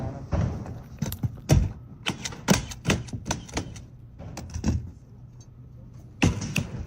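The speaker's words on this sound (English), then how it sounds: "Pounding that nail in." A Milwaukee nail gun drives roofing nails through gutter apron during a roof install, firing a series of sharp, loud percussive shots at irregular intervals, close by and with no talk over them.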